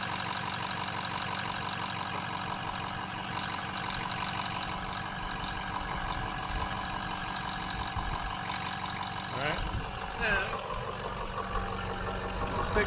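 A car engine idles steadily with its oil filler cap off, a mechanical, slightly knocking rumble throughout, shifting briefly near the end.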